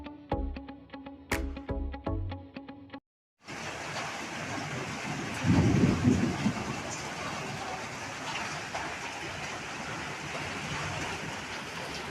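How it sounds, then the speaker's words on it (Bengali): Steady, dense broadband hiss of heavy rain after a brief burst of music and a short silence, with a louder rumbling surge midway. "আজকে বৃষ্টি শুরু হয়েছে তো প্রচণ্ড পরিমাণে বৃষ্টি হচ্ছে"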